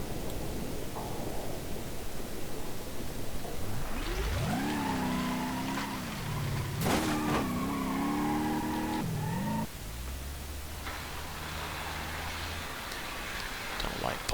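A car engine in BeamNG.drive revs up sharply in a rising whine, holds and wavers, then drops to a low, steady hum as it reverses, with faint noise around it.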